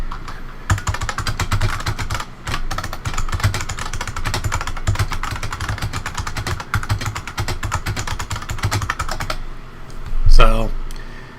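Rapid, steady typing on the keyboard of a 1997 laptop, dense close key clatter running almost continuously before a short voiced murmur near the end.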